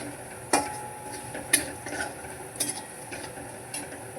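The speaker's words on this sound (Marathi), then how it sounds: "छान असं मिक्स करून घ्यायचं आहे" Turmeric being stirred into a poha mixture made from crumbled leftover chapatis, a spoon scraping and knocking against the pan in a few spaced clinks over a soft background, with no talking.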